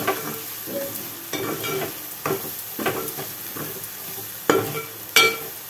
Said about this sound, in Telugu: పసుపు వేగాలి.